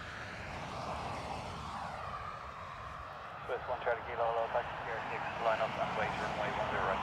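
A British Airways Embraer jet from London City, heard at Dublin Airport, gives off a distant, steady engine roar with a rising whine. Speech breaks in over the engine noise in the second half.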